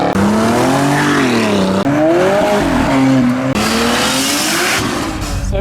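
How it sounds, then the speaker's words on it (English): Cars pulling away from a car meet where a Cobra was shown, engines revving loudly and continuously close by as they rise and fall through the gears, with some tire noise and no talk. "cars are starting to leave"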